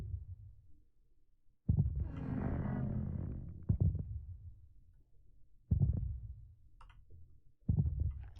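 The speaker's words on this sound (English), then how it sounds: "We're getting dual heartbeats." Heartbeats in a video game with the Warden nearby thump low and muffled at a slow, regular pace about two seconds apart, with a brief rumbling swell between the early beats.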